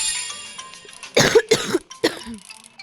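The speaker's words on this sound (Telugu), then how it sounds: "కాఫ్ వచ్చేసింది నాకైతే" A person coughs several times in quick, harsh bursts close to the listener, with a softer throat-clearing cough after a short pause and quiet background before.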